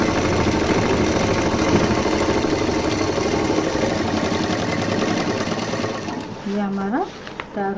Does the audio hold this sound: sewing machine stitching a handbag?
yes